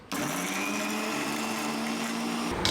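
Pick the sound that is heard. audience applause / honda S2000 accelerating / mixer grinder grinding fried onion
mixer grinder grinding fried onion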